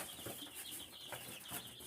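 Young chicks in a brooder peep and cluck in a steady overlapping chorus, with a few brief wing flutters, fairly close and continuous throughout.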